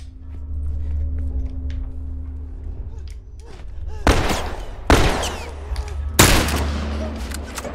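Gunfire in the video game The Last of Us comes as three loud, sharp shots spaced about a second apart, preceded by quieter in-game rumble and scattered clatter.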